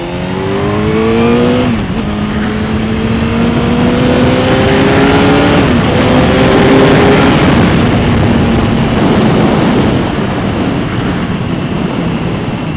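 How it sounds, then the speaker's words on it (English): A Suzuki GSX-R 750 motorcycle engine revs up through the gears while riding, loud and close, rising pitch between shifts over heavy wind rush. "God, it almost gets smoother when you rev it out."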